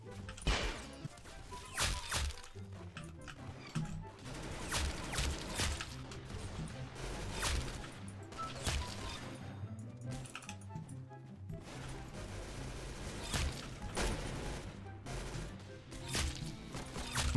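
Golden pistol shots in the Roblox shooter Arsenal, sharp cracks fired one by one at irregular intervals over busy game sound, with a voice talking throughout.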